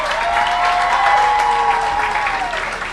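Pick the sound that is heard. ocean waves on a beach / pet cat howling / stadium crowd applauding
stadium crowd applauding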